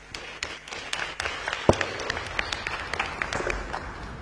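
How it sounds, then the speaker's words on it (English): Light, scattered applause from a climate action and disaster prevention summit audience for panelists, moderately distant and thin, with irregular claps and a few louder knocks. "A big round of applause for our panelists"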